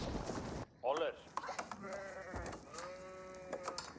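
Sheep bleat in an Age of Empires 4 match, a short wavering cry standing out near the start, followed by faint game sounds while a commentator talks over most of it.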